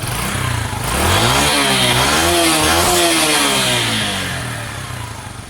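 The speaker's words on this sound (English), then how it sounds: "give it too much beans and it just cuts itself out" A Sinnis SC125 motorcycle engine revs up loudly from a rough idle, its pitch climbing and wavering, then the revs sag and fade as the engine cuts out.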